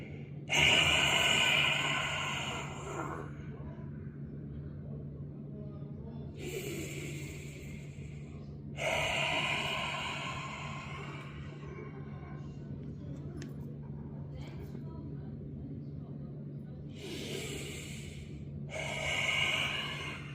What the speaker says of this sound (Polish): Wypuszczaj powietrze w taki sposób, żeby jak najmocniej wyszło ze środka brzucha.